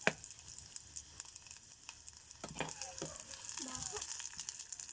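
Garlic sizzles and fries in a pan with a soft, steady crackle, fairly faint, along with occasional clinks of stirring and low voices nearby.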